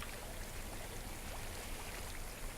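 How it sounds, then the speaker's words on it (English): Steady broadband rush of flowing water, like a stream or brook, in the video game Hellblade: Senua's Sacrifice; continuous and even in level, with no talk over it. "I hear water."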